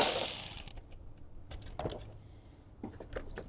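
A hand ratchet turns a 10mm socket to back out a bolt during a Toyota Tundra amplifier install, giving a few short bursts of clicking and mechanical rattling up close, with pauses between them.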